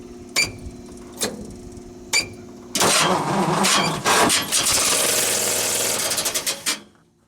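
A 1955 Ford F-100 pickup truck engine starting: a few separate starter cranks, then the engine catches and runs loud and rough for several seconds before cutting off, close by with no talking.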